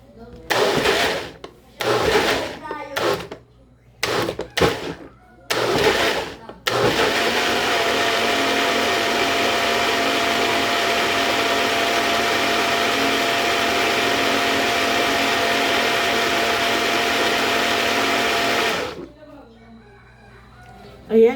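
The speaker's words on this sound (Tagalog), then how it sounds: "ayan, ilagay na, i-blender ko uli." A kitchen blender whirs loudly and steadily for about twelve seconds while blending an herbal liver and kidney detox drink, preceded by several short pulses, with a rooster crowing in the background.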